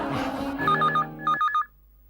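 A telephone rings with two short electronic warbling trills over fading background music, then goes quiet.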